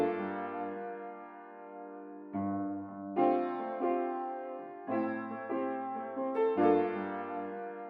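Sparse, stripped-back piano chords from a vintage soul sample ring out alone, each held chord sustaining and then changing every second or so at a steady, unhurried pace.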